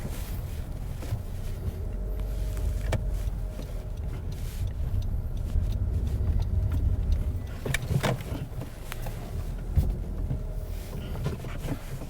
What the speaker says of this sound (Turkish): şuradan bir U dönüşü yapacağım şimdi sizin için